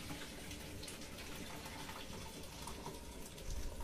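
Water gushing and splashing steadily into a kitchen sink as freshly peeled potatoes are drained, a continuous close rushing stream that swells slightly louder near the end.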